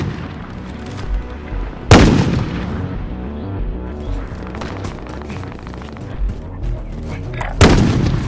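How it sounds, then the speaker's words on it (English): Rocket launches and explosions from Call of Duty: Modern Warfare: two heavy booming blasts about six seconds apart stand out over a continuous rumble of distant artillery and gunfire, loud and close. "Launching rocket."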